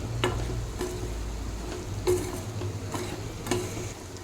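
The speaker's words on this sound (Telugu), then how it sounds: "అలసందలు ఇంకొంచెం ఫ్రై అవ్వాలి" Chicken with black-eyed peas frying in a pan, a steady low sizzle broken by a few sharp stirring clicks and scrapes of a spoon against the pan, with no talk.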